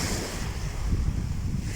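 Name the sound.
sea waves at Azla beach near Tetouan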